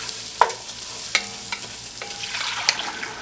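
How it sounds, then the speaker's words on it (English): Orzo is stirred in a pan, with close, steady scraping and light clinks of the utensil against the pan under a soft sizzle, at a brisk irregular pace and without speech. "We're going to stir it a little more vigorously than that, so as to not burn anything."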